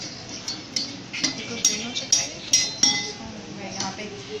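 A spoon stirs green food colouring into batter in a bowl, clinking sharply against the sides in a quick run of regular metallic taps, close and fairly loud, with quiet background noise.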